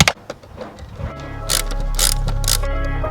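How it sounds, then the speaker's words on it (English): A ratchet fitted with a 7mm socket loosens a screw on a Vauxhall Corsa during an air intake kit install, giving a close, loud run of quick clicking ratchet strokes that builds into a steady, grinding mechanical whir. "now I'm using a 7mm, and I'm going to put that straight onto my socket, and we're going to loosen up this screw"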